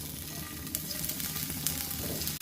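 Cauliflower pieces fry in hot mustard oil in a wok, giving a dense, even close-up sizzle with faint crackles across the short stretch and no talking.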